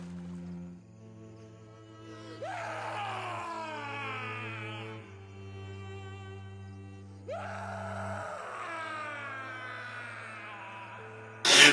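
A man lets out two drawn-out, anguished screams a few seconds apart, each rising and then falling away, set over steady background music.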